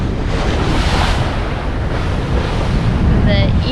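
Wind and waves rush loudly and steadily as a sailboat crosses open sea at about 4.5 knots under self-steering, with constant wind buffeting and surf wash throughout and no talking.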